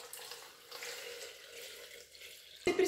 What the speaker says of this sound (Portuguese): Vou colocar também a própria água de cozimento delas